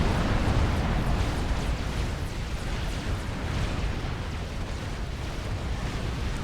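Tactical missile launcher strikes in the strategy game Supreme Commander: Forged Alliance, a continuous, dense rumble of distant explosions and booms rolling on without pause, loud and low-heavy.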